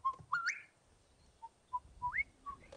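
A person whistles in imitation of a bird call during a safari drive, giving several short clear notes and rising slurred phrases spaced out over a few seconds, close and alone without speech.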